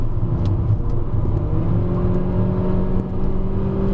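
A Volkswagen Vento 1.2 TSI pulls uphill in third gear on a winding hillclimb road, its engine holding a steady, loud drone with a faint whine rising over the four seconds, heard from inside the cabin with no talking.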